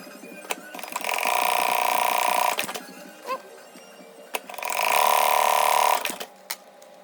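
Sewing machine stitching a Dyneema drawstring bag, running in two steady bursts of about one and a half and two seconds each, with short clicks and handling noises between runs.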